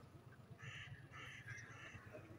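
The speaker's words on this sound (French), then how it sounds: "il y a une espèce de corbeau là qui arrête pas de croasser" A crow caws repeatedly in short harsh bursts from a distance on the bank of the Dordogne river, faint against a quiet outdoor background.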